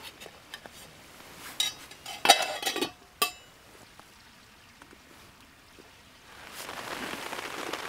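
Rain patters on a tarp roof over a camp by the wild Wied river in the Westerwald, faint scattered drops with a few sharp clinks of cookware and a soft hiss building near the end.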